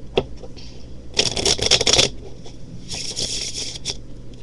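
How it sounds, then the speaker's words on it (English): A deck of playing cards riffle-shuffled by hand, two bursts of dense fluttering card slaps, the first around a second long, the second slightly shorter, close and crisp with light handling taps in between. "let's split the deck, turn them over, whiffle"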